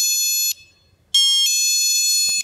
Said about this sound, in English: Stores use them for the chime when the door opens